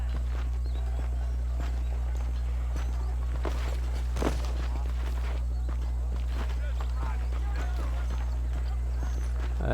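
Horse hooves clip-clop at a walking pace in the video game Red Dead Redemption, a steady series of close, moderately loud footfalls over a constant low hum, with someone talking over them.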